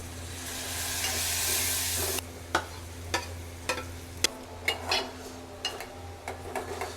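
Onion, garlic and chilies with turmeric, chili powder and salt fry in a pan: a loud sizzling hiss fades after two seconds into a series of spoon scrapes and clinks against the pan as the mixture is stirred.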